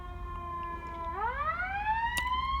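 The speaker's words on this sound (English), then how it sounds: "Y'all hear the ambulance?" An ambulance siren wails outside, holding a steady tone before sweeping upward in pitch as it passes, moderately loud and continuous with no talking over it.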